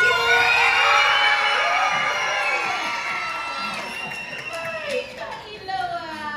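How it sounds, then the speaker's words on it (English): A large audience of children at a Hawaiian-themed luau dinner show yells and cheers loudly all at once, the crowd roar swelling at first and then trailing off into scattered shouts and chatter. "So all the kids, I want you to yell as loud as you can when we put our hands up."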